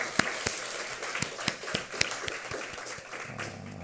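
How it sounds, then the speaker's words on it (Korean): Church congregation at a Sunday morning service giving a round of praise applause: fairly quiet, rhythmic hand claps in a steady beat, with a low murmur near the end. "우리 찬송 가운데 임하신 하나님께 감사와 영광의 박수 올려드리겠습니다."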